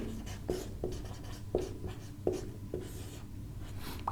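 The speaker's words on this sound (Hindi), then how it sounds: "नॉर्मलता का फॉर्मूला बनेगा यहां लिखेंगे नॉर्मलता" Pen or marker writing a chemistry normality formula on a board during a class 12 lesson, with a series of short, fairly regular strokes and taps close by over a quiet room tone.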